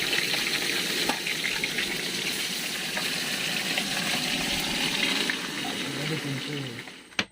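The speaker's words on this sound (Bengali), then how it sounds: "তার সঙ্গে কয়েক পিস মাছও ভাজা করে নিচ্ছি" Pieces of fish fry in hot oil during a riverside trip in the Sundarbans, a steady close sizzle and crackle with occasional stirring, faint talk in the background and a sharp knock near the end.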